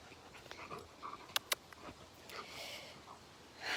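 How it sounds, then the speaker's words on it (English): A livestock guardian dog on a farm panting close by, soft rhythmic breaths with a few sharp clicks and a brief whimpering sound, fairly quiet with no talking. "So we have the dog, our livestock guardian dog, Lizzie."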